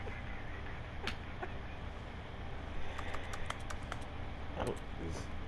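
Keyboard typing inside The Stanley Parable, a character tapping keys in quick, irregular clusters at moderate distance over a steady background hum.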